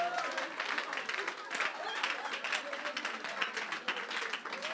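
A church congregation applauds and cheers during a Sunday worship service, dense continuous clapping mixed with crowd voices at steady moderate loudness throughout.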